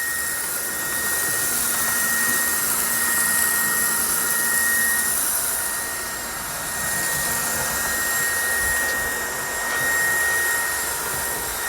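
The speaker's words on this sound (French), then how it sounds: "Donc on entend l'aspirateur, la petite roue qui tourne." A small vacuum-cleaner wagon from lux-modellbau runs on a model railway, its little wheel turning. It gives a loud, continuous high-pitched motorized whir that swells and dips gently, with no other sounds.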